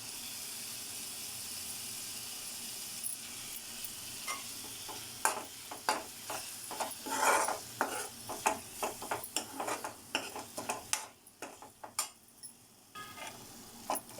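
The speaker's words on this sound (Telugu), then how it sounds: "టమాటాలు వేసి టమాటాలు బాగా మెత్తగా మగ్గనివ్వాలండి" Tomatoes cook in a pan with onion paste, giving a soft steady sizzle. A utensil stirs against the pan with a run of close clacking scrapes that grows busier partway through, and no one talks.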